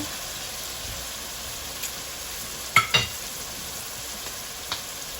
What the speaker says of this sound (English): Let's stir this together.